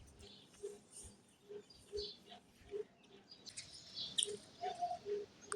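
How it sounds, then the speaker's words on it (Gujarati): Sparrows chirp on a village morning, with short, faint, scattered tweets at some distance that grow busier toward the end. "કલબલ કલબલ સકલા બોલી રહ્યા છે અને સરસ મજાનો મીઠો અવાજ આવે છે સવાર સવારમાં"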